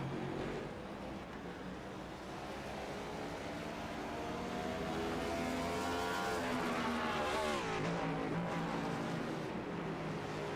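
A race car in the iRacing sim at Okayama roars steadily down the front straight, its engine note climbing through the gears with a loud, continuous drone and shifting harmonics near the end.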